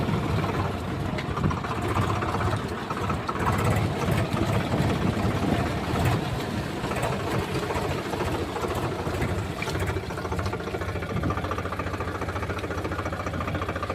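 A tractor engine drones steadily as the tractor reverses through water that has risen high around it, a continuous rough rumble with faint knocking and no talk.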